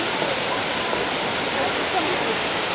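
The Sütüven waterfall in Edremit roars as steady, dense rushing water, loud and constant throughout with no pauses.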